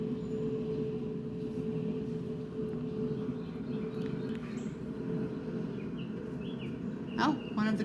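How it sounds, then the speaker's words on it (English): A single crow caw rings out near the end over a steady low background rumble. "Oh, one of the crows is here."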